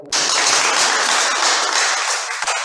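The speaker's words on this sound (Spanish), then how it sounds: "Un fuerte aplauso." Audience applause from a crowd at a public speaking workshop, a broad steady wash of clapping that starts abruptly and holds loud and dense throughout, easing slightly at the end.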